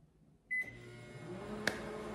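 A microwave oven popping popcorn, heard as a steady low hum that starts with a tone and carries on evenly, with one brief sharp click near the end.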